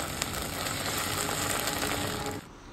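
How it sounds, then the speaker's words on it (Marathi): Ginger garlic paste sautés with onion, green chilli and curry leaves in a pan, a close, steady sizzle with faint scraping that cuts off abruptly near the end, no voices. "आता त्यात आलं लसणाची पेस्ट टाकलंय आणि परतान घेतलंय"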